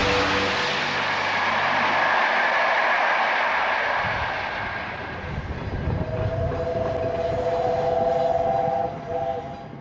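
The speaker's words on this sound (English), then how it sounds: "A steam locomotive on a mission." Tornado, a Peppercorn-class A1 Pacific steam locomotive, rushes past with a loud, sustained rolling roar of wheels and train noise, and a whistle-like tone sounds over the rumble in the latter half.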